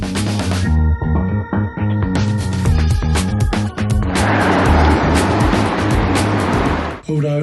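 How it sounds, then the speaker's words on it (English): Busy road traffic swells into a loud broadband rush past a cycle lane with a bus stop, vehicles passing close by over steady tonal sounds. "This is a high traffic volume, bustling road"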